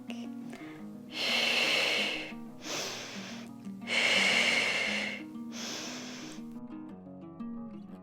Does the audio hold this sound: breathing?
yes